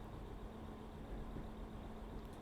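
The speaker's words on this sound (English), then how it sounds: "I hear a train." A train in Train Sim World 4 on the Midland Mainline gives a steady, low, faint engine rumble that holds constant throughout, with no voices.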